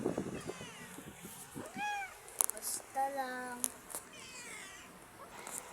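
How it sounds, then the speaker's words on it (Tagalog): Several cats meow in short, rising calls outdoors, some overlapping, while a person speaks briefly over them. "Diyan na mga pusa."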